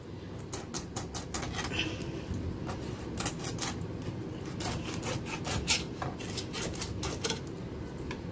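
A knife cuts through a vaala fish along the central bone, giving a close, faint series of scraping and crunching strokes in an irregular rhythm.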